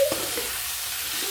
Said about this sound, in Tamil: கொஞ்சம் உப்பு சேர்த்துக்கலாங்க. எண்ணெயில் கொஞ்சம் நல்லா வதங்கட்டும்.